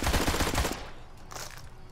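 A rapid burst of gunfire from the Blues and Bullets game cracks loudly at first, then gives way to fainter scattered shots and echoes.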